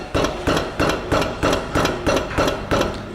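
A Nissan Livina 1.6 K4M's suspension knocks in a steady, regular rhythm of about three sharp, loud thuds per second, close by and with no talking.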